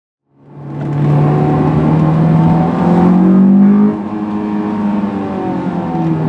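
Honda S2000 AP1 engine revs steadily while driving, a loud close tonal drone that holds and rises in pitch, then drops and settles at a lower, steady roar.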